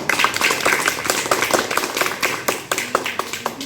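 A group claps along in steady, rhythmic applause, close and fairly loud, with individual hand claps clearly audible throughout.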